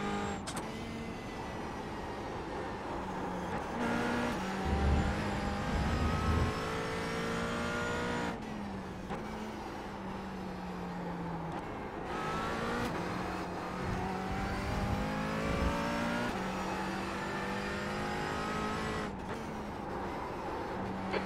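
A McLaren 570S GT4 race car in iRacing revs and pulls through gears, its engine note rising and falling with repeated upshifts and lifts over the steady drone of the sim, loud and close throughout.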